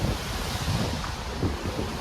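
Open sea seen from the deck of a Royal Caribbean cruise ship heading to the Bahamas, a steady broad wash of waves mixed with gusty wind buffeting the microphone, fairly faint and with no talking.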